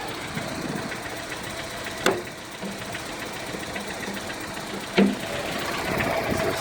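A car engine idling while still cold and misfiring slightly, a steady low rumble broken by two sharp knocks a few seconds apart, with no talking.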